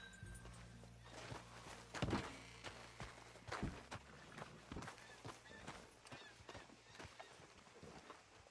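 Horse hooves clip-clopping at a slow walk in the game Red Dead Redemption 2, a steady series of hollow knocks, moderately close, with faint background ambience.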